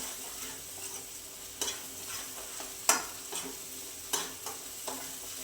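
Spice masala is sautéed in oil for a rustic potato curry, a soft continuous sizzle broken by a few sharp scraping strokes of a spoon against the pan, close and fairly quiet, no voices.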